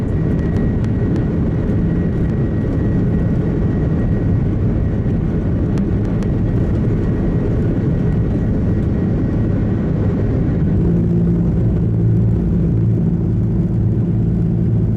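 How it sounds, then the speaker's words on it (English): An Airbus A330 on its takeoff roll produces a steady, loud, broad jet engine roar with deep rumble, continuous and unchanging across the whole stretch, with no voices. "This Airbus A330 that was taking off when at the last second a flock of birds struck the plane"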